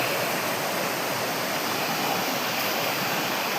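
Rushing river water in a forest near Taliye village, Mahad, a steady loud broadband roar that stays constant throughout with no voices.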